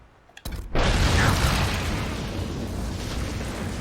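A fire explosion spell goes off during combat in Dragon Age: Inquisition, hitting with a sudden loud burst and then a sustained roaring blast that slowly settles.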